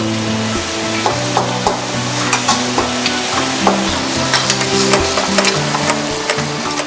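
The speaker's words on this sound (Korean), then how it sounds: "고기를 기름에 튀기듯이 볶은 뒤" Meat sizzles and fries in hot oil in a wok, with constant crackling and the repeated scrape and clatter of stirring, loud and close, with no voices.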